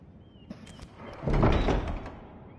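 Large heavy doors swing open in a Game of Thrones Telltale video game, a low rumbling groan swelling loudly midway and fading, with faint clicks and thuds before it.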